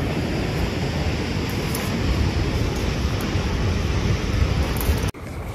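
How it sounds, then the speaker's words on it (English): Waterfall in Nopiming Provincial Park, a loud, steady broadband rush of falling water heard from nearby, continuous with no voices, cutting off abruptly near the end. "Waterfall down there."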